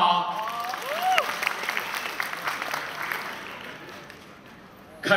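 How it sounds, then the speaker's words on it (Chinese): Audience applause on a travel-group show, a burst of clapping that rises, holds and then fades out, with a voice heard over the start. "来点掌声鼓励一下好不好？"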